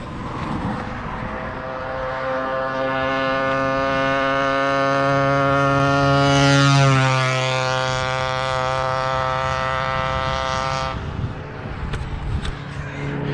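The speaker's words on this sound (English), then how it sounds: "he is going for 40 miles an hour on the little motorized bicycle" A small motorized bicycle engine with its exhaust baffle cut off buzzes loudly and steadily as it passes. The raspy two-stroke drone rises in pitch on approach, peaks, then drops as it speeds away at about 40 mph.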